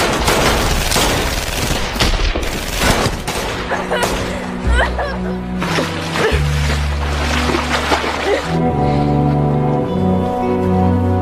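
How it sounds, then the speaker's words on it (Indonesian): Film gunfire as a gang fires repeatedly at Casper: loud, dense bursts of shots and rattling volleys dominate the first half, then give way to sustained music-like tones. "mereka tetap menghujani tembakan kepada Casper"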